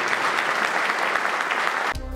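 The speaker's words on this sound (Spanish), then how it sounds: "Quisiera que les diéramos un aplauso fuerte al Cabildo" An audience at a collective wedding event in Jilotepec gives loud, dense applause that fills the space steadily, then cuts off abruptly near the end.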